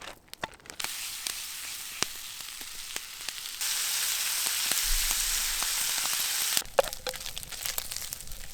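Bacon and eggs fry in a pan at a winter tarp campsite, a constant close sizzle with scattered crackles and clicks that swells to a louder, denser hiss through the middle stretch before easing back.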